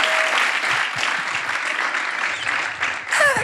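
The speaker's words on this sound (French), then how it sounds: "Applaudissez le chef plateau," Sustained audience applause for a stage crew chief at an outdoor fun show, dense and steady for several seconds with a brief rise near the end.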